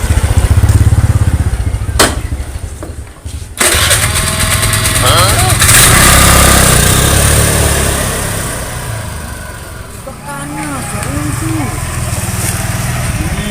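A motorcycle engine starts and revs close by, sputtering and idling in uneven bursts, with a quieter stretch before it picks up again, while people talk over it.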